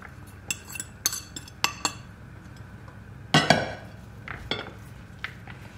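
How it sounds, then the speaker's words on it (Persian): A fork and spoon clink against a dish while mixing food for Turkish börek, giving sharp metallic taps spaced irregularly, with a brief cluster of scraping clatter in the middle, close and clear without talk. "قاشق چنگال دیگه میره خوب میکس میکنم"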